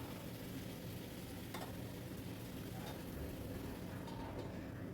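Greens, likely okra, are stirred into a little hot mustard oil in a pan, giving a soft, steady frying hiss with faint scraping, quiet and continuous without talk.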